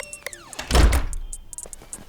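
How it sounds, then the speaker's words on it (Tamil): A single door is pulled shut with one solid, close thunk, preceded by a brief sliding creak and followed by a fading room tone, heard alone without talk in a home setting. "கதவை சாத்திக்கோ"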